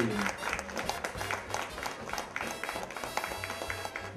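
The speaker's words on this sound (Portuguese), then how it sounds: "Um aplauso para a Margarete!" An audience applauds a third-place prize winner at a sausage festival, a sustained, dense patter of clapping from a crowd mixed with scattered voices.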